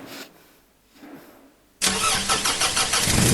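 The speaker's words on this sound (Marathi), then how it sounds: "आता गाडी कशी चालू होते ती बघा." A car engine cranks and fires up abruptly after a quiet moment with faint background noise, then settles into a loud, steady running rumble close by.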